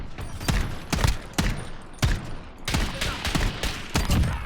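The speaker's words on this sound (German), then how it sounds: "Ich habe Deagle Time, schieße auf alles." Desert Eagle pistol shots in a multiplayer shooter game, a burst of loud, sharp reports fired in quick irregular clusters, about a dozen over a few seconds, with no talk over them.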